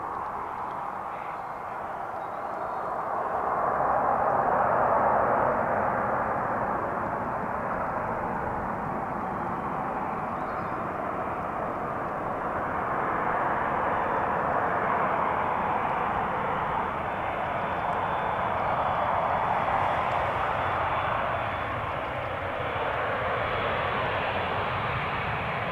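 A Vueling airliner in Barcelona livery rolls out after touchdown on Schiphol's Polderbaan runway, a steady distant broadband roar of reversing engines that swells, eases and swells again, with no talking.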